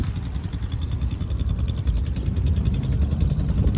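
A Vitacci Terminator 300 ATV, a 300cc 4x4 Yamaha clone, running steadily at a low rumbling idle, close and continuous with no voices.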